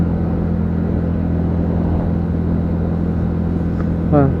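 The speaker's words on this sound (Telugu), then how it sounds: "బైక్ సౌండ్ అయితే చాలా బాగా వస్తుంది." A TVS NTorq 125 scooter engine drones steadily and close while riding, a constant low rumble with no break.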